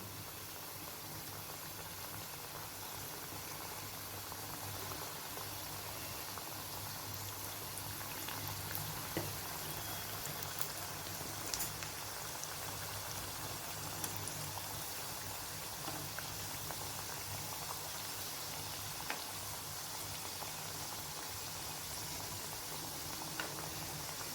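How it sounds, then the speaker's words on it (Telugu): Madatha kaja pastries fry in hot oil over a medium flame, giving a steady, faint bubbling sizzle with small crackles and pops that continues evenly throughout. "ఒక్కొక్కటిగా వేసుకోవాలి మీడియం ఫ్లేమ్లో పెట్టి కాల్చుకోవాలి"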